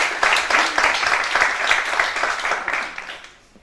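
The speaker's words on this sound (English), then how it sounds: "Round of applause for Palanche English." Dense, steady applause from an audience at a talk, welcoming Palanche English, an English-speaking club in Spain; loud and sustained for most of the stretch before tapering off at the end.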